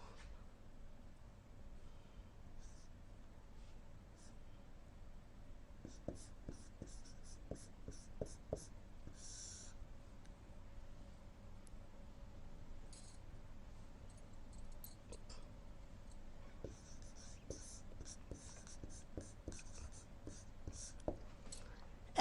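Pen scratching out numbers on paper while working an algebra problem, steady faint writing strokes with short taps, quiet and close, no talking over it.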